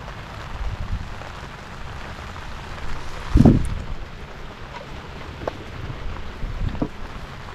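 Rain falls steadily over a forest fishing spot in U Minh Thuong, a soft, even patter throughout, with one louder thump near the middle and a few faint ticks later.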